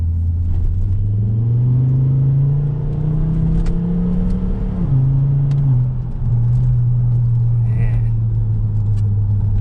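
A 2007 Volvo S40 T5 with a muffler delete drives along, its loud exhaust droning low and steady, pitch rising under acceleration then dropping at a shift, with a faint rear-end clunk possible.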